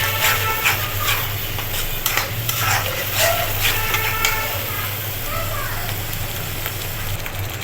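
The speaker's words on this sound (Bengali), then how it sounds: "পেঁয়াজ বাটাকে ভালো করে একটু রান্না করে নিব কিছুক্ষণ।" Onion paste sautéing in hot oil in a pan, a steady close sizzle with soft scraping stirs over a low background hum, and faint voices in the background.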